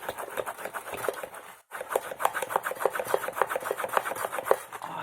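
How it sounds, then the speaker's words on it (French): Metal rulers handled on a craft table while assembling a scrapbooking ink module, producing quick scraping and clicking rubs in an irregular rhythm, close up, with one brief silent break. "On entend le bruit de mes règles métalliques."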